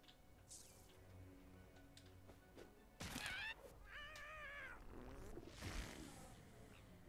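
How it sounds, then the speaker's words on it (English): A cat in South Park: The Fractured but Whole lets out a few distinct, wavering meows in the middle, set against faint game ambience, small thuds and ticks. "Yeah, I got a cat."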